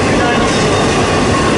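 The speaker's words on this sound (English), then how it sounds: "this is the eastbound stacker on Main 1 here at CP Rochester on the Fort Wayne line" Eastbound double-stack freight train passing on Main 1 at CP Rochester on the Fort Wayne line, a loud, steady rumble and roar of rolling cars close by, with a voice faintly present beneath the noise.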